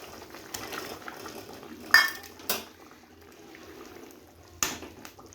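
Pot and utensil clatter while tomatoes go into a boiling potato curry with beans and fish: a few sharp metallic clinks and knocks over a low simmering bubble, close and moderately loud.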